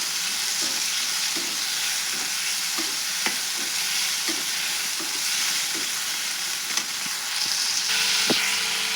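Tomatoes frying in a little oil sizzle steadily up close, while a spoon scrapes and taps the pan in a regular stirring rhythm.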